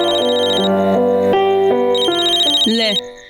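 A mobile phone ringtone for an incoming call plays loudly as a bright electronic melody of stepped tones, continuous for about three seconds before stopping.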